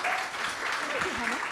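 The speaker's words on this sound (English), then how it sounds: "Please give Karen a round of applause." An audience claps at a fashion talk event, a short burst of steady applause heard over a voice speaking at the same time.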